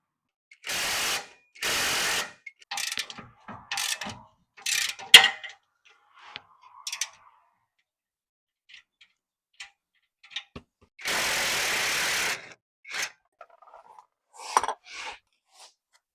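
A socket wrench ratchets bolts off an engine's upper manifold in short clicking bursts separated by quiet gaps, with scattered small metallic taps and knocks nearby.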